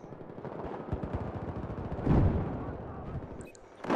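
Battlefield 4 MG4 machine gun firing in rapid rhythmic bursts, with a heavier blast near the middle and other battlefield gunfire and effects around it.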